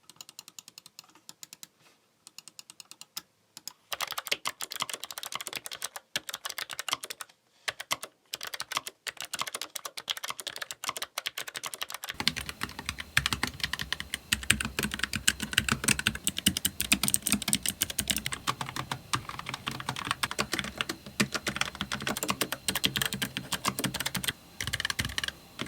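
Close typing on mechanical keyboards, a Logitech MX Mechanical Mini with Kailh switches and aluminum top case and a Keychron K3 Pro, with red, blue and brown switches. Dense clacking keystrokes run continuously, sparse at first and then steady and fuller, with no talking.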